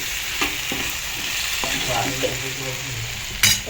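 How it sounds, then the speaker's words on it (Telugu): Taro root curry fries in a pan with a loud, continuous close-up sizzle. A few sharp knocks and scrapes of stirring break through the hiss. "ఇక ఇప్పుడేమో చామగడ్డ వండుకున్నాను"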